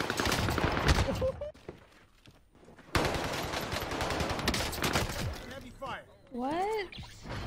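Call of Duty Warzone gunfight on Rebirth Island, with loud bursts of rapid automatic fire broken by a short lull, then more heavy shooting and chirping in-game effects, with voices partly over it.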